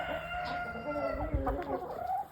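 Jersey Giant roosters and young hens cluck and call in a winter coop, several overlapping bird voices at moderate distance, fairly quiet.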